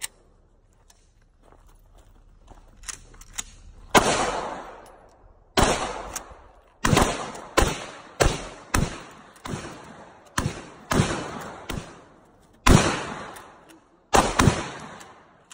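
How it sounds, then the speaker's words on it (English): Gunshots at an outdoor gun range: about a dozen loud, sharp reports fired one by one at uneven intervals, each with a short decaying tail, after a few seconds of quieter handling noise. "Don't shoot that bitch as fast as you can, Pace."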